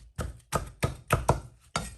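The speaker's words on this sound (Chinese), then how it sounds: "再斜刀切成小菱形块。" Knife chops through seeded green chili peppers being cut into small diamond pieces: six crisp, evenly spaced strikes on a cutting board, close and clear, with no talking.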